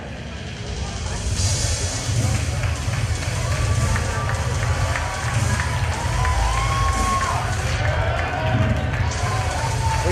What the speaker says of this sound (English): It's gotta feel good to hear the sold-out crowd chanting your name.